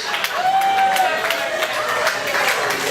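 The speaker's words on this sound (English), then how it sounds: "The pause is for applause." A comedy club audience at Moxie's in Abbotsford applauds and murmurs in a steady wash of clapping, with a voice briefly heard over it.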